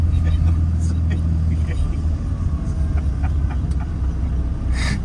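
A Fiat 126p small car drives with a steady, loud engine rumble and drone that continues throughout, with faint clicks and rattles above it.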